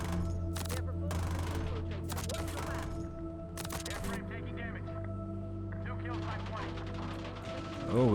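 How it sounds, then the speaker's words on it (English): Sharp bursts of gunfire crack in short volleys during a Warzone match, fairly close, separated by pauses over a steady droning hum, with a player speaking near the end. "Oh, we're getting shot at?"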